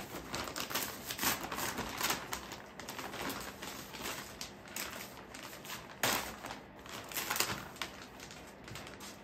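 Vacuum-bagging plastic crinkles and tears as it peels away from a fiberglass hydrofoil, a continuous close rustle with sharper crackling bursts throughout.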